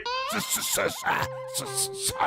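A cartoon voice imitates a dog's barking and whimpering over the phone, in a string of yelps and whines alternating with short bursts of speech.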